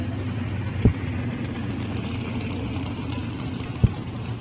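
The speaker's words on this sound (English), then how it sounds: "As the front engine dragster comes to line" Front-engine dragster idling at the starting line at a drag race in Woodburn, Oregon, a steady low rumbling drone with two sharp clicks, no talk.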